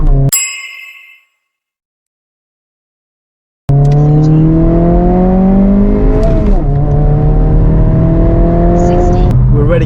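A 2022 Honda Civic Si accelerates hard, its engine note climbing through a gear, dipping at a shift, then climbing again, loud and close inside the car after a short silence.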